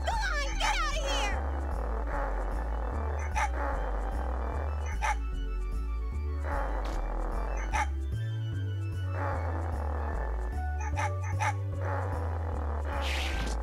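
Dog barking and yipping in the video game Megaman Legends, repeated short barks over steady game music and sound effects, with a voice talking at times.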